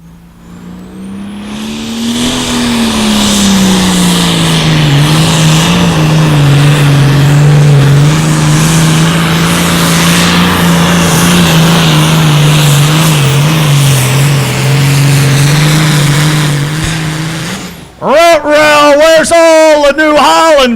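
A heavily modified tractor in the 9,200-pound Super Farm class roars at full power during an Outlaw Truck and Tractor Pullers event in Madison, SD, sustained and loud for most of the run before cutting off, with an announcer talking over it.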